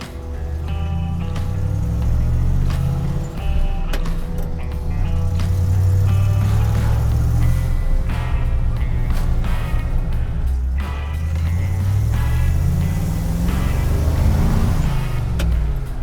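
A 1974 Ford F100 full-size pickup with a three-on-the-tree manual drones loudly as it drives, rising and falling through gear changes, with rattles and road noise throughout.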